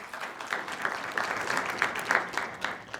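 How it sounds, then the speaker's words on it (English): An audience at a conference gives a short burst of applause, dense clapping from a mid-sized room that swells and fades over a few seconds. "So you should give yourselves a hand clap,"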